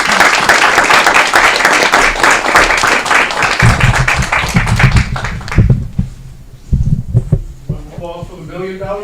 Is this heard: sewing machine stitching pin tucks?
no